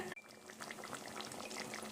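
Thick tamarind curry (puli kuzhambu) bubbles and simmers in a pot, with steady soft popping and gurgling, quiet and close, no voices.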